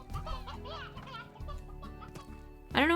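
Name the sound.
chickens clucking in the video game Slime Rancher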